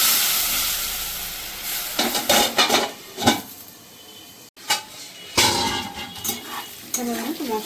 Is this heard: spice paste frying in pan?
yes